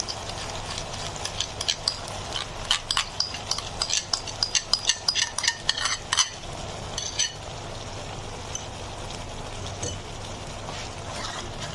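A spoon stirs a malai chicken mixture in a pan, producing a run of close, irregular scraping clicks and wet taps over a low background simmer, then the stirring thins out into a quiet bubbling.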